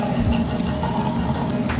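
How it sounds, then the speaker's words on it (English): Champagne poured into a glass of Hennessy, a steady close liquid stream running continuously for about two seconds with no voices. "A little pour here."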